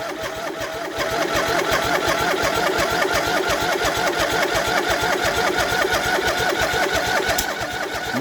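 An MTD Yardman lawn tractor engine catches after a brief cranking start and settles into a loud, rapid, steady chugging run close by, with no speech.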